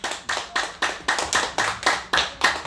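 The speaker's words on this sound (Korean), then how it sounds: "큰 박수 부탁드리겠습니다" Audience applause at a constitutional-defense academy talk welcoming an elderly former ambassador, heard as a slow, rhythmic unison clap of about ten strong, evenly spaced beats, close and loud.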